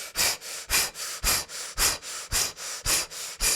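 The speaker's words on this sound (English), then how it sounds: "a breath of fire, which means a rapid breath" Rapid, forceful breath-of-fire breathing through the mouth during a kundalini yoga breathwork practice, about ten sharp, even breath bursts in quick steady rhythm, close and loud, with no talking.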